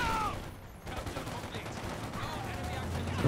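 Cavalry rifle gunfire in Company of Heroes-style World Championship match play, VonIvan's cavalry rifles flanking Stern Pioneers, comes as a busy spread of shots and battle noise under voices, with a brief lull near the one-second mark.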